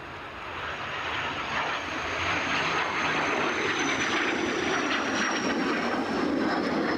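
A plane takes off at Edinburgh Airport on a windy day, its engine roar swelling quickly into a loud, broad, sustained rush that holds steady to the end.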